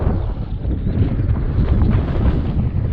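Strong wind buffets the microphone on a slope where a model sailboat is sailed, a loud, continuous low rumble and roar with no voices.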